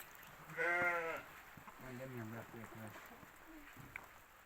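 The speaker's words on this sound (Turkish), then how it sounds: "Salih'in küçük Boynuzlu kuzular da var onlar." A sheep lets out one loud, wavering bleat up close, followed by softer bleats and bleating-like calls from nearby animals over quiet outdoor ambience.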